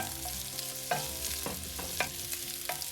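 Twelve small shallots, split lengthwise, go into grated coconut already frying to light brown in a pan for a Kerala-style mushroom theeyal, setting off a steady sizzle marked by several sharp stirring scrapes.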